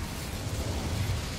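A burst of fire from the Incendio spell in Hogwarts Legacy, a brief rumbling whoosh with no talk over it.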